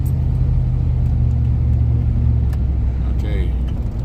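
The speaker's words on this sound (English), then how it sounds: "Little wheel slip there. Got a one wheel peel on this truck." A 1998 Chevrolet C1500 pickup truck rumbles steadily up close as one rear wheel spins under throttle, the engine droning loud and even throughout, with a brief voice near the end.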